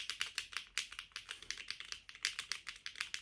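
Rapid clacky keystrokes on a mechanical keyboard, an uneven steady patter of crisp taps close to the mic with no voices.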